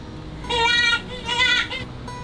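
A jackrabbit call plays from a button on a science museum exhibit: two shrill, wavering squeals in quick succession over a noisy background of voices.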